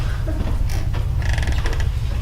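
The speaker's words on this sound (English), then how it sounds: "And immediately the door starts like opening and closing." A door creaks as it swings open and shut in a hallway, a loud drawn-out groan with short mechanical clicks and rattles over a steady low rumble, and no voices.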